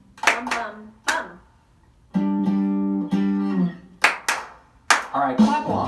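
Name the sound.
people clapping along to a rhythm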